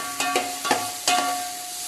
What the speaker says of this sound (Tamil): நல்லா கிண்டிக்கிட்டே இருக்கணும் வெங்காயத்தை, இல்லைன்னா அடி பிடிச்சிடும்.